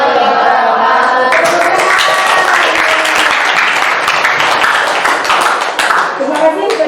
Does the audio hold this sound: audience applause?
yes